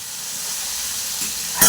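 Fish fries in a pan of hot oil with a steady, loud, continuous sizzle, and a sharper crackling hiss bursts up near the end.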